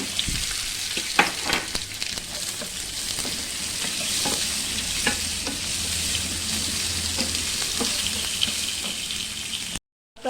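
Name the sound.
onions frying with mustard seeds and chana dal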